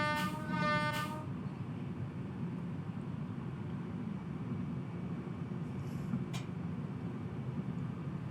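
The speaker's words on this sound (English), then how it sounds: "There's a train!" Train in the Train Sim World 6 game between Exeter and Plymouth, a horn blast at the start over a steady low rumble of rolling wheels that continues throughout.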